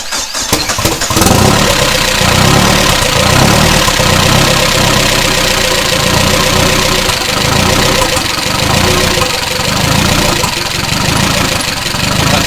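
A loud engine sputters to life and settles into a rough, rhythmic idle with a chugging, tapping pulse that continues throughout.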